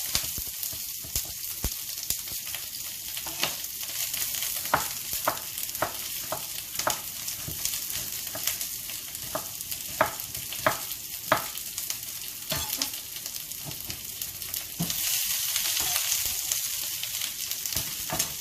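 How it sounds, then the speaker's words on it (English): Vegetables stir-fry in a hot wok with a constant loud sizzle, cut by frequent rhythmic scrapes and tosses of the spatula, and the hiss swells near the end. "We're going to start off cooking the vegetables because that's just what I want to do. Put that in a hot wok."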